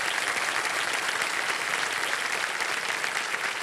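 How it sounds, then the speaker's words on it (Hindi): Studio audience applause on a TV quiz show, steady full clapping throughout with no voices. "जोरदार तालियां बजाते रहिए"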